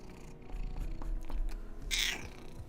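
A pet cat, a fairly aggressive only cat, purring in low rhythmic rumbles close by, ending in a short higher meow.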